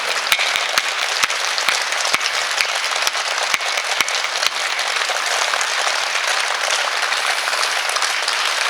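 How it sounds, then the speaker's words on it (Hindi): At a kavi sammelan poetry event, a large audience breaks into loud, thunderous applause. Sharp individual claps stand out at first before the sound settles into a dense, sustained roar of clapping. "जरा ये गड़गड़ाते हुई तालियों के साथ में"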